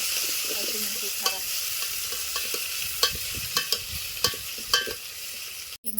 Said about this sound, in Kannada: ಬೆಳ್ಳುಳ್ಳಿ ಸ್ವಲ್ಪ ಗೋಲ್ಡನ್ ಕಲರ್ ಬರೋ ತನಕ ಫ್ರೈ ಅಲ್ರಿ